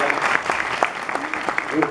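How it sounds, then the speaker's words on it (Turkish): Applause at a Turkish gathering honouring a school director, a steady wash of clapping from a small audience with voices talking over it throughout. "müdürümü alkışlıyorum ben"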